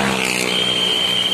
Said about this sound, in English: diberangkatkan ya menuju Kota Medan teman-teman